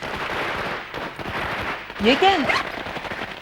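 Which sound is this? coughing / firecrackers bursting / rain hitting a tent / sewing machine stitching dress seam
firecrackers bursting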